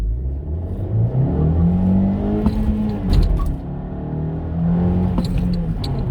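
A 2017 Honda Civic with a 1.5-litre turbo engine accelerates in first gear, its engine note rising and dipping as it revs, loud and close with faint clicks and no talk.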